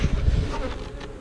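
Honey bees buzz steadily around nuc hives during a beekeeping hive split, a close, continuous droning hum with no voices.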